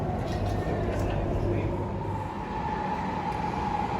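Rumble of a Melbourne metro train on the Pakenham line pulling into Town Hall station, a steady rolling drone with faint mechanical whine, heard from inside the carriage under talk.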